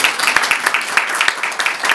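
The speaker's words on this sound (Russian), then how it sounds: "Вот давайте вы тоже аплодисменты." A small museum audience claps briskly and evenly at an unveiling of a painting of a Hero of Russia, with individual claps standing out in a close, steady patter.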